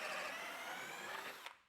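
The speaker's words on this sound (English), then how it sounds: "I did find it useful to keep a hand on the part while drilling the plugs" A drill fitted with a Kreg plug cutter cuts a pocket hole plug from a small wooden workpiece, a close, steady grinding whir that winds down abruptly at the end.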